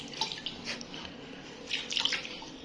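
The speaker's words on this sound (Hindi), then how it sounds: "इसके अंदर पानी डाला है मैंने" Water is poured into a clay pot being washed, making a quiet, continuous splashing trickle with small irregular bursts of dripping.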